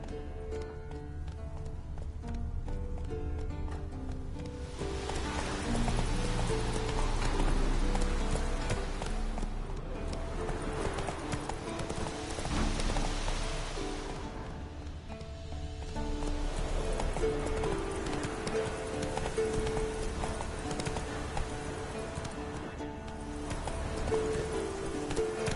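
Roach, the horse in The Witcher 3, gallops in a steady rhythmic clip-clop of hooves over a continuous game soundscape with faint rustling, sustained and fairly loud throughout.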